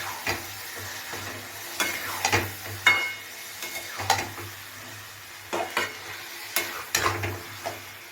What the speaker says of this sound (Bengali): 1 চামচ জিরের গুঁড়ো দিয়ে এটা ভালো করে কষিয়ে নেব, ঢাকা দিয়ে দিয়ে কষাবো